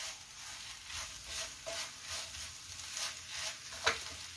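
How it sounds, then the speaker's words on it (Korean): Cooked rice stir-fried in a pan with kelp broth and turmeric, a soft steady sizzle with light scraping stirs and a sharper clack near the end, close and fairly quiet. "그 밥을 넣어서 같이 조금만 더 볶아주세요."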